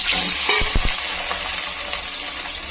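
Onions fry in hot oil with whole spices for parotta salna. A dense, close, continuous sizzle opens with a few clattering stirs of a utensil against the pan.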